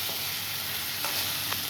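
Young jackfruit with Kashmiri chili powder sizzling steadily in a pan, close and continuous frying with a few brief stirring scrapes.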